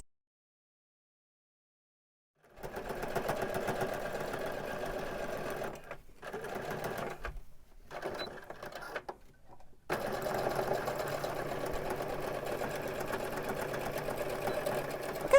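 A sewing machine stitches the end seams of a fall throw pillow, starting after a silent moment and running in bursts with brief stops before a longer steady run, a close, even mechanical hum without speech.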